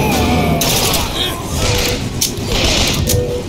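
Carbine fire in BioShock Infinite's Burial at Sea underwater-city DLC comes as several loud bursts of shots with mechanical clatter, under someone talking.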